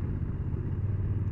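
A Honda NT1100 DCT motorcycle being ridden, its engine giving a steady low hum with wind rumble, close and moderately loud for a brief stretch.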